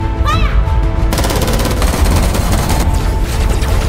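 Shooters in a film scene firing into water let loose a loud, sustained burst of rapid gunfire that begins after a brief opening moment and continues densely to the end.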